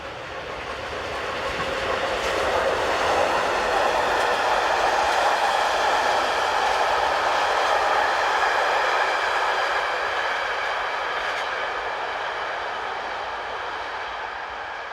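Class 242 locomotive hauling a southbound passenger train around a curve, a steady loud rumble with rolling wheel noise that swells as it passes close by and then slowly fades.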